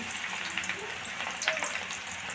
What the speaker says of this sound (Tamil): எண்ணெய் நல்லா காஞ்சிருச்சுங்க இப்போ வெங்காயத்தை போட்டு எடுத்துருவோம்